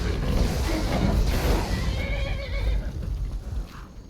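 A horse in the Skyrim video game neighs loudly, a long whinny with hoof clip-clop beneath it, close and filling the whole moment with no talk over it.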